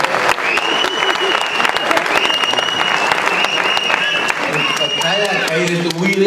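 An audience applauds at a Tamil Sangam Chithirai Thirunaal stage event, with dense, sustained clapping filling the hall while a speaker's voice carries over it.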